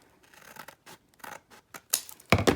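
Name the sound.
scissors cutting along the edge of a paper envelope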